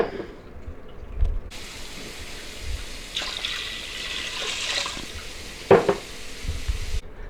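Chicken stock and water pour steadily into a pot for several seconds, a soft rushing splash with a brief clink near the end.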